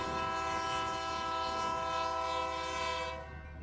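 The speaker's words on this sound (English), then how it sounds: "this eastbound Monette local train on the Cherokee sub, headed up by a rebuilt former Santa Fe GP30" A BNSF eastbound local freight on the Cherokee sub, led by a rebuilt former Santa Fe GP30, sounds a loud, sustained horn chord close by over rumbling rail noise, tapering off near the end.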